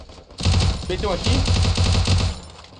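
Rapid bursts of automatic gunfire in a shooter video game, loud and dense rattling volleys continuing throughout, with a player's voice speaking over the shots.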